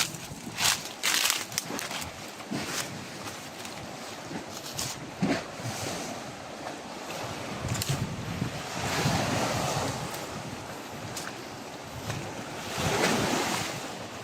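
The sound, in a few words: sea waves around a house in the middle of the sea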